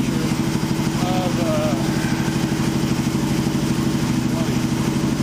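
An Excelsior Henderson Super X motorcycle engine idles steadily to warm up, a loud, close, even low rumble with rapid pulsing firing and mechanical clatter running without pause.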